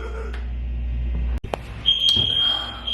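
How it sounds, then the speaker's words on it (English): A smoke-type fire alarm beeps loudly and continuously during a break in a podcast recording, with fire trucks on scene; the shrill tone holds steady through the second half after a brief dropout and a few thumps. "we had to take a break in the recording because the fire alarm is going off"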